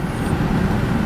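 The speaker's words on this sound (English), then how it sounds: "Driving this car, now again" A Jaguar XJS on the move, heard from inside as a steady low engine and road rumble, continuous and fairly loud with no talk.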